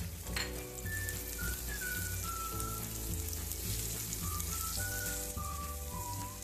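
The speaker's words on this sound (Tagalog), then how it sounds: "Gisa-gisa lang. Ngayong malambot na ang kamatis, ilagay ang alamang" Shrimp paste (alamang) sautéing with softened tomatoes in a pan for pork binagoongan, a steady close sizzle throughout with no talk over it.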